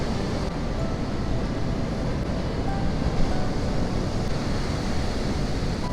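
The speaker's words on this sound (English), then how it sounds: "This water line, these roaring waves are fantastic." Roaring surf waves break steadily on an East Hampton beach, a loud continuous wash of foam and rumble with wind noise over the microphone and no voices.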